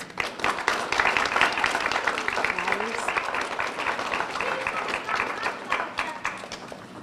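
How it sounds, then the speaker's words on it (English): An audience applauds at a massage therapy pinning ceremony, steady dense clapping throughout at a close, even level, with a few voices and cheers mixed in. "Let's please give them a round of applause."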